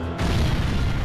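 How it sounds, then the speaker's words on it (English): An explosion in Kamen Rider Super Climax Heroes: a sudden loud boom that erupts and holds as a broad, rumbling roar for about a second. "That's a more expensive explosion because they had more money in the 80s, right?"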